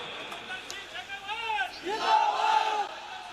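A large crowd at an Indian political rally roars a chant of Bharat Mata ki Jai in unison, loud swelling voices rising and falling across a few seconds.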